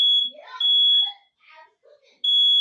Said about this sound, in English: Is there a reason why the fire alarm's going off?